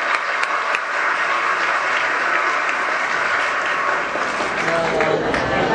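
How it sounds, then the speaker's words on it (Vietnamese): A room of former students at a school reunion breaks into loud, sustained applause to greet classmates abroad, a thick unbroken wash of clapping lasting the whole stretch. "chúng ta dành tràng vỗ tay để cho các bạn đó ở nước ngoài nghe chúng ta vỗ tay chào đón các bạn"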